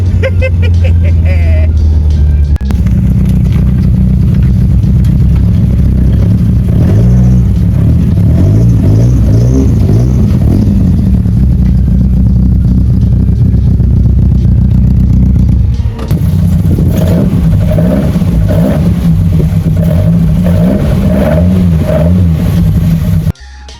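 A Mk1 Volkswagen Golf fitted with individual throttle bodies revs hard and accelerates through the gears, a loud, close, raw engine roar with rising and falling pitch sweeps and a brief gear-change dip partway through.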